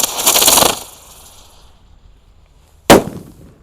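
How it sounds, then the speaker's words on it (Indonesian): A jumbo Super Blitz firecracker goes off with a burst of crackling fizz that fades, then a single sharp, loud bang a couple of seconds later, close by with no talking. "Lanjut kita nyalakan mercon super blitz"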